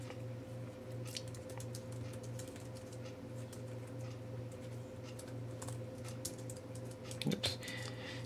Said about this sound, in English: This typing is very nice on this.